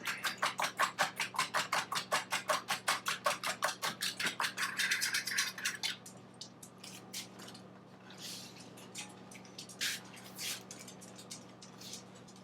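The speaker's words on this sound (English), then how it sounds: "you just need to give the eggs a little mix up" A whisk beats eggs in a bowl for mozzarella en carrozza: about six seconds of rapid, even clinking strokes, close and loud, then slower scattered scrapes and taps against the bowl.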